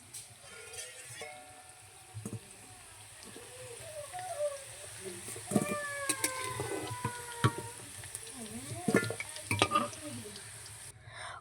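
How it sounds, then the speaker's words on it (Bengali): Oil sizzles steadily in a pan as dried chillies, whole garam masala and bay leaves fry, while a utensil stirs and scrapes, with scattered clinks and taps over the continuous frying hiss. "ওই তেলেই শুকনো লঙ্কা, গোটা গরম মশলা আর তেজপাতা ভেজে নিতে হবে।"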